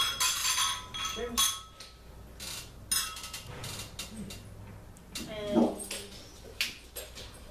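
Glasses clinking in a toast with Toad Hollow Risque sparkling wine, several bright chinks amid speech and clatter.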